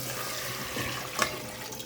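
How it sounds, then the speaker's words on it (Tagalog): Two cups of water are poured into a cooking pot of half-cooked beef with oyster sauce for a ramen dish, a soft, close trickling splash that builds to a brief louder gush near the end. "Lagyan na ng 2 tasang tubig."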